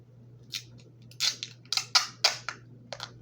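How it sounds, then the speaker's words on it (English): Tape is pulled and pressed over a paper pencil in a series of sharp, close crackling rips and snaps, about a dozen brief bursts in an uneven rhythm over a low steady hum. "Tape is so loud."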